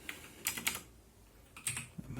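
Keys clack on a computer keyboard hooked up to an MSXVR system, several quick close taps in two short bursts with a pause between.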